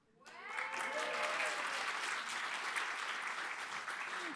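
An audience at a French eloquence competition final bursts into applause, rising quickly into dense, sustained clapping that stays full for several seconds, with a brief voice at the start.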